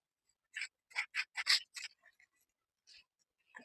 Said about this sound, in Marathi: त्यानंतर आपल्याला या ठिकाणी रेष मारून घ्यायची आहे